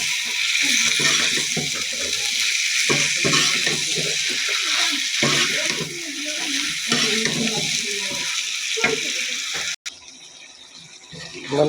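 Curry with tomato and coriander leaves frying in a pan, a steady broadband sizzle with scraping and stirring throughout, a brief break near the end before the sizzle resumes more quietly; some voice may be faintly mixed in.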